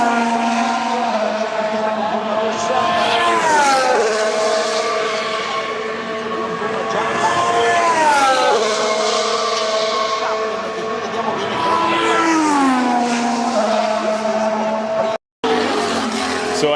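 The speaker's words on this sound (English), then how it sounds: "Let's go get some more footy of these F1 cars." Formula 1 cars race past at Monza, loud sustained engine whine rising and falling in pitch as they pass close by, near-continuous with a brief cutoff near the end.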